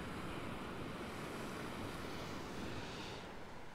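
Waves wash onto Whistling Sands beach in North Wales as a steady, faint surf roar mixed with wind noise, with no voices.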